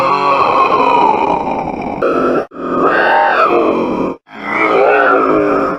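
Menacing, warped growls and groans from a special-round enemy in COD Zombies, loud and continuous in three long bursts split by brief gaps, with no talking.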